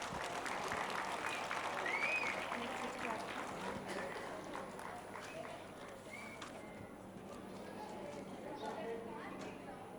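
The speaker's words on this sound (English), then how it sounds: "Please welcome the great 9A boys with a thunderous round of applause." Applause from the audience at the annual day of Narayana E Techno School, Ramamurthy Nagar, is soft and distant. It rolls on steadily for about ten seconds and tapers slightly toward the end.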